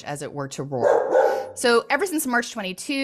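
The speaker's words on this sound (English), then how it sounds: "sorry about the dog barking if you can hear that" A dog barks intermittently behind a man's steady speech, the yaps partly buried under his talking.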